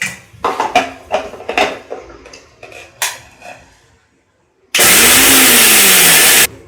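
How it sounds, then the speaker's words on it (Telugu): Mixer grinder grinding mustard seeds, starting abruptly with a loud, steady high-pitched whir that runs about two seconds. Scattered clinks and handling noises come first, then a short pause. "నేను ఆవాలు ఇలా మిక్సీలో గ్రైండ్ చేసుకుని"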